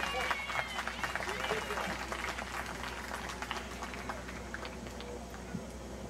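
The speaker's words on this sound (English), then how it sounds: "Can we give them a round of applause," Audience at a Juneteenth celebration opening in Rochester, New York applauding as the mayor is called to the stage, scattered clapping from a moderate distance with crowd murmur beneath.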